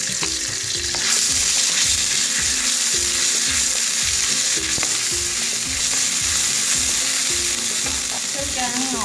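Thai curry paste for a spicy stir-fry with tilapia sizzles steadily in a hot pan, with rhythmic scraping strokes of a spatula stirring it, close and loud throughout with no talking.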